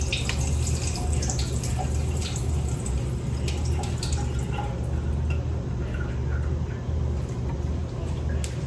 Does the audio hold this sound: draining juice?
yes